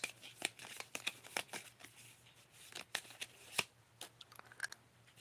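Tarot cards are handled and shuffled softly nearby while one is picked, giving faint, irregular papery flicks and taps against a quiet hum.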